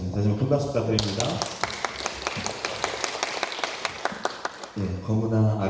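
Church congregation at a Thursday women's worship service applauding a singer, a brisk run of hand claps, loud and close, between stretches of talk and music at either end.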